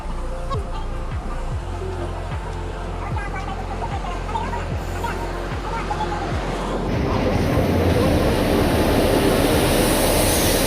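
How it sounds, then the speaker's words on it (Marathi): A train rumbles closer near Lonavala, its wheels clacking rhythmically over rail joints before a broader, louder roar takes over. "तर मित्रांनो फायनली ट्रेन आलेली"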